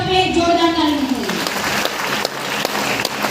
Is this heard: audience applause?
yes